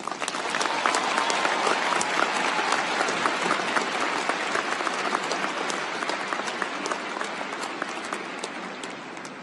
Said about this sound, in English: Please give a resounding applause to Professor Njabulo Ndebele.